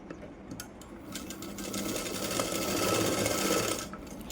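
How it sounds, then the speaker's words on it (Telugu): A sewing machine stitches a hook belt onto blouse cloth, its steady motor hum running continuously and swelling slightly louder toward the end, close and alone without talk. "ఇలా సమానంగా ఉంచి పావించు మార్జిన్తో ఒక స్టిచ్ వేయాలి"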